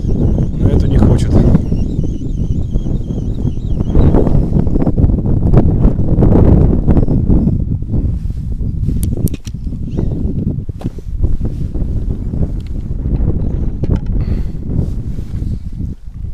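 Strong spring wind buffeting a microphone during spin fishing with a jig on open water, a loud continuous roaring gusty rush with rustling and occasional thumps throughout.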